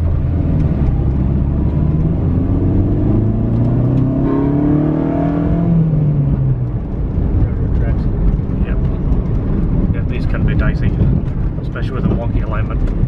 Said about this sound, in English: It's nice having that VTEC sound as well.